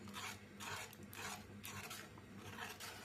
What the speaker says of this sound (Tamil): நல்லா போட்டு மிக்ஸ் பண்ணிகிட்டே இருப்போம்.